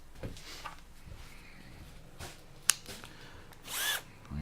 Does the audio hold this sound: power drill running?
yes